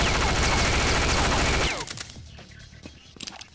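UMP-45 submachine gun firing full-auto in The Specialists, a Half-Life mod: a dense, loud rattling burst for about a second and a half that cuts off abruptly, followed by scattered clicks and quieter handling noises.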